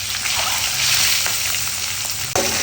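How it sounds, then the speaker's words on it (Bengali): Boiled eggs frying in a pan, a steady loud sizzle with light stirring scrapes and a sharp knock near the end. "এখানে ডিম সেদ্ধ করে ভাজা নিচ্ছে"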